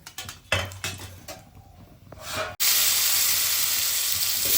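Potatoes dropped into the same hot oil used for bitter gourd, a sudden loud sizzle that bursts in after some clinking of utensils and then holds a steady, bright frying hiss, no talking.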